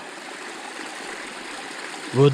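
Mountain stream water flowing in the high Carpathians, a steady rushing babble close by, with a brief low voice at the very end.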